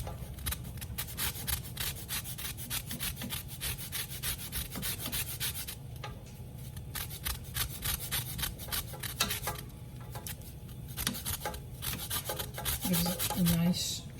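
Half a lemon zested on a microplane grater for a lemon cake, heard as a steady close scratchy rasping that repeats in quick strokes almost without a break, with a few brief clicks near the end.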